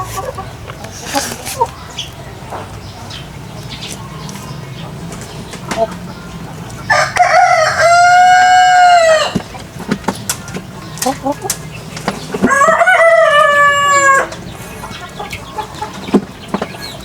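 Roosters crow twice, loud and close, with scattered clucking from other chickens and people talking around them.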